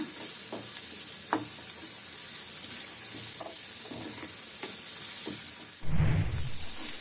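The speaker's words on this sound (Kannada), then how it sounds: "ಈರುಳ್ಳಿನ ನಾವು ಫ್ರೈ ಮಾಡ್ಕೊಳ್ಳೋಣ." Onions frying in hot oil in a pan with a continuous close sizzle, a few soft stirring knocks scattered through it, then a sudden louder hiss and burst of sizzling near the end.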